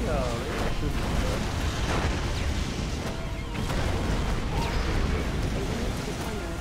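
Rumbling explosions and booms as units fire on a power plant in Red Alert 3, dense and continuous battle noise with people talking over it.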